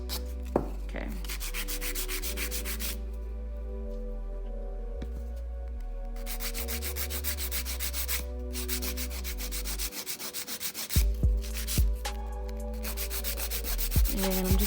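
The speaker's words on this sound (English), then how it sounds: "just file the edges off so they won't be super sharp" A file rasps along the edges of acrylic nails in long, steady back-and-forth strokes, close and fairly loud, pausing briefly between passes; a voice says a single word.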